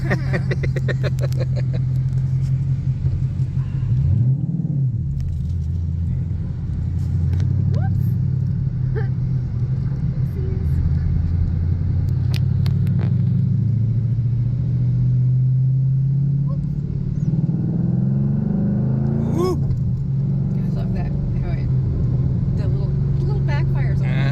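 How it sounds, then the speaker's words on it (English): A 2012 Ford Mustang Boss 302 with Flowmaster exhaust and Mickey Thompson race tires drives with a steady, loud low engine drone that swells with acceleration, while people talk over it throughout. "it has Flowmaster exhaust on it"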